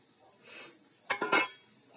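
Small fried fish being stirred in a pot of boiling broth, a few close metallic clinks and scrapes of a utensil against the pot clustered in a short burst after a soft swish, with no talking.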